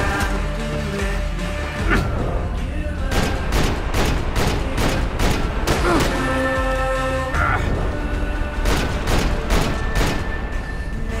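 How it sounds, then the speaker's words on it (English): Grenade blasts and gunfire in Max Payne 3 come as a dense, continuous barrage of sharp repeated bursts and booms, loud throughout with occasional voices. "Grenades."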